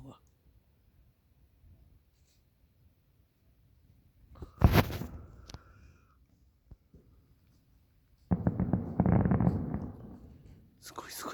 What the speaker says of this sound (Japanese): 土浦で花火で。